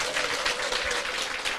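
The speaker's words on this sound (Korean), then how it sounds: "유서구 대표님께 다시 한번 뜨거운 박수 부탁드립니다." Steady, dense applause from a seated audience at a Korean business seminar fills the room for the entire moment after a company representative finishes presenting, at an even, moderate level with no voices.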